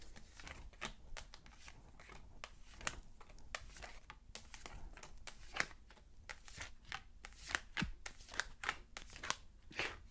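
A deck of tarot cards is shuffled and cut close up, giving a steady run of soft riffling flicks, taps and papery snaps at a quiet level, with no talking.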